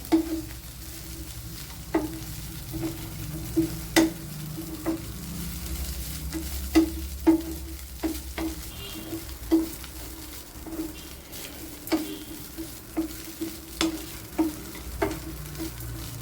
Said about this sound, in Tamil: சேர்த்து ஒரு 2 நிமிஷம் நல்லா கிளறிக்கோங்க.